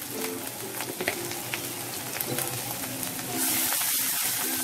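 Turmeric and chili powder spices fry in a pan for a Bengali fish dopiaza, giving a moderate, continuous sizzle broken by stirring scrapes, the hiss growing brighter and steadier toward the end.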